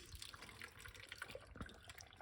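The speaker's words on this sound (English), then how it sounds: "And pour some water into it." Water is poured into blended beet and garlic for juice, a faint, close splashing and trickling with a few brief drips.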